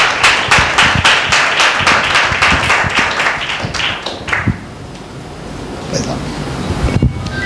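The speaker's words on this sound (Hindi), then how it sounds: "एक जोरदार ताली परमेश्वर की महिमा के लिए देंगे" A church congregation at a Tuesday meeting claps together in strong, rhythmic unison for several seconds, then the clapping fades into a quieter room.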